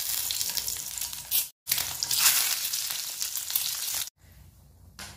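Eggs frying in hot oil for egg chilli give a loud, steady crackling sizzle, cut by two brief silences, the second followed by a quieter stretch of sizzle.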